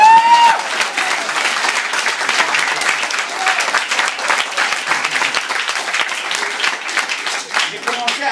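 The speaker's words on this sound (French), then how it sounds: "Et applaudissez-moi," Loud, enthusiastic applause from a large audience, dense clapping that holds steady for several seconds.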